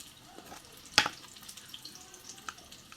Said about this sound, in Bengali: কোপ্তাগুলো ভাজা হয়ে গেছে